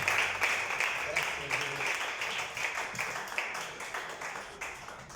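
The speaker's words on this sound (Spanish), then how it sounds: "Dale un fuerte aplauso a nuestro Dios en esta noche" A church congregation claps, somewhat distant and moderate in loudness, with voices mixed in beneath the applause, gradually thinning toward the end.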